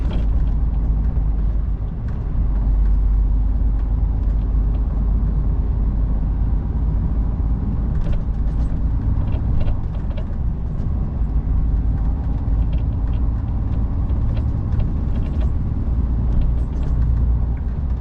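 A car drives on roads heading toward Bradford and the M62, giving a steady, loud low rumble of engine and road noise throughout with no breaks and no talking.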